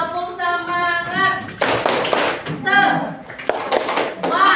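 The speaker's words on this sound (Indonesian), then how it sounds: "Tepuk semangat dulu aku." Schoolchildren at an Indonesian elementary school (SDN Cijam, Sumedang) perform a rhythmic spirit clap, with bursts of sharp claps interleaved with sung chanting, lively and close in a room.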